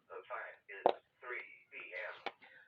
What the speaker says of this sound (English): the background noise you heard is the ham radio